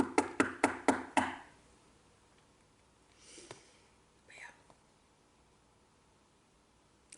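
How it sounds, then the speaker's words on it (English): Six quick, sharp knocks on wood in an even rhythm, close and crisp, followed by quiet room tone with a couple of soft breathy sounds. "Knock on wood."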